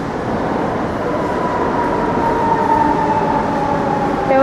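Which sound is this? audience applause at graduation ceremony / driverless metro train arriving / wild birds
driverless metro train arriving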